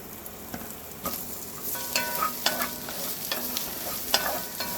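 Three large onions sautéing in a pan for tomato kuzhambu, a continuous crackling sizzle with scraping stirs and light clatters of a spoon throughout.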